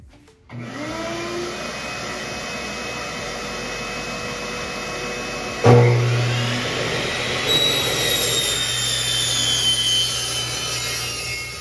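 A power saw cutting aluminum extrusion pieces for a sim racing rig, a steady loud motor whine with a harsh screeching bite as the blade enters the metal midway and grinds on to the end.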